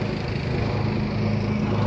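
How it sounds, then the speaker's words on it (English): A lawn mower drones steadily and loudly as it cuts grass in a backyard, a continuous engine hum without pauses. "My husband is mowing the grass again here in the backyard."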